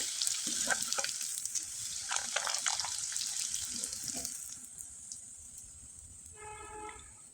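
Flour pitha dough fries in hot oil with a bright, crackling sizzle that fades over several seconds, and a few faint tonal chimes follow near the end.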